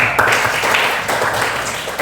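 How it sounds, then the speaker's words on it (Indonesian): Classroom applause: a short, dense burst of many hands clapping together, loud and close, lasting about two seconds. "Berikan tepuk tangan."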